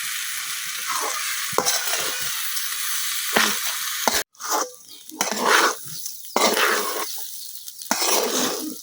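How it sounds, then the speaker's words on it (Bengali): Rice grains being stirred and fried in a pan with garlic paste, a close, steady sizzle broken by scraping stirs and brief pauses, with no talking. "এখন আমি লাড়াই চাড়াই চাউলটা কিছুক্ষণ ভাজা লইলাম"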